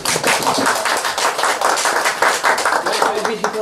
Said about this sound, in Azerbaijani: Xanımları da təşəkkür ərbabını da bir alqışlayaq.